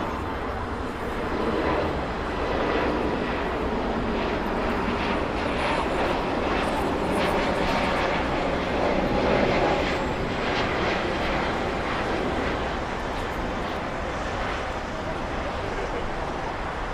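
A jet airliner passes at LAX airport, a loud, steady roar of engines and rushing air that swells slightly mid-way and holds for the whole stretch, with no voices over it.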